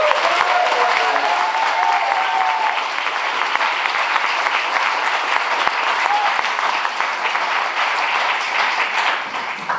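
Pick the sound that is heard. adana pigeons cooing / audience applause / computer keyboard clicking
audience applause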